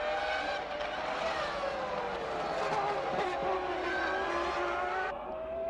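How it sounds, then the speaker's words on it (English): Two 1998 Formula One cars, a McLaren and a Ferrari, racing wheel to wheel into a chicane, their high engines screaming loudly and continuously with pitch rising and dropping through gear changes, under commentary. "The McLaren is tucked in behind the Ferrari and Mika pulls out alongside the Irishman into the chicane"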